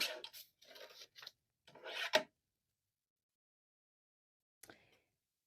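Cardstock cut for a handmade Valentine card, a few close rasping strokes of a blade or trimmer through the paper, then silence and one brief faint scrape.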